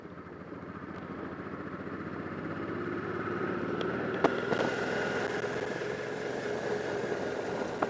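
A 2004 Honda NT650V Deauville motorcycle with 36,000 miles idles in a steady, even drone that holds at a constant level throughout, with one brief sharp tick partway through and no voices over it.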